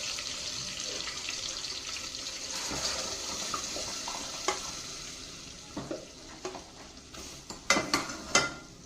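Urad dal goes into a garlic tempering, producing a soft, continuous sizzle with stirring, followed by several sharper utensil clinks and scrapes toward the end.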